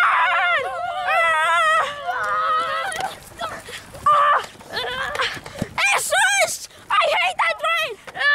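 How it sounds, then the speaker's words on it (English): A dog barks, yips and whimpers in short bursts during a comedy skit, the cries close and loud, overlapping with fast voices talking. "My dog is with us."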